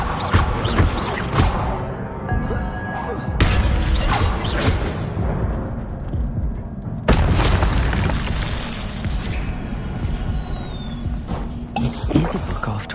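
Spell-casting blasts from Hogwarts Legacy in Hogsmeade, a run of loud booming bursts and whooshes over a continuous busy game soundscape, with heavy impacts near the start, around three and a half seconds and again near seven seconds.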